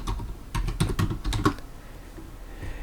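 Fingers tap out a quick burst of keystrokes on a computer keyboard while entering an Excel function, close and crisp, then the room falls quiet.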